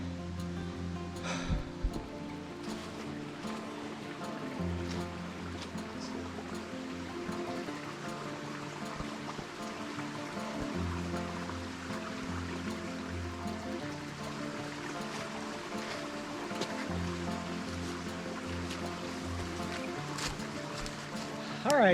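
Stream at a trail water source, a lunch stop near a bridge on the Laurel Highlands Hiking Trail, flowing steadily and close under a low layered hum and occasional murmured voices.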